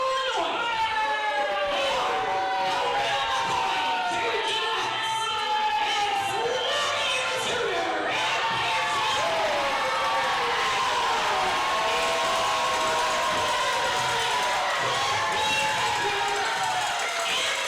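A wrestling crowd at a tag team championship match roars and cheers steadily throughout, loud and dense, with shouts rising over the din and an announcer's voice speaking over it.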